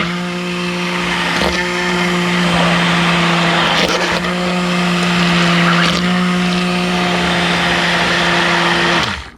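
Stick blender whirring continuously through a batch of soap mixture, loud and close, the motor pitch holding steady with brief surges before cutting off at the end.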